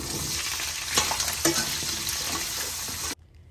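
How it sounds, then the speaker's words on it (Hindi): Carrots and potatoes fry with black pepper, cumin and dried red chillies for veg yakhni pulao, giving a loud, dense sizzle with a few stirring knocks, then cutting off abruptly near the end. "ये गाजर और जो आलू हैं इनको हम थोड़ी देर इसमें भुनाई करेंगे।"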